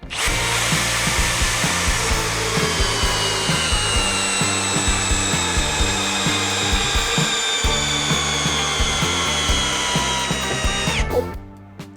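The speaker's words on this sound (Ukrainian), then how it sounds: "Давайте тепер порівняємо на саморізах 250 мм на 10, на які батареї швидше закрутить." Bosch GSB 18V cordless drill driving a 250 mm screw into wood, a loud close motor whine and grinding rumble that holds steady for about eleven seconds before stopping abruptly.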